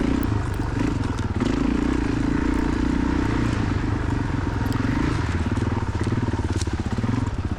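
A 2003 Suzuki DRZ400E held in second gear on a rocky cross-country trail at a Cub Mountain race, its engine droning loud and steady throughout, with rattles and knocks from the rough ground.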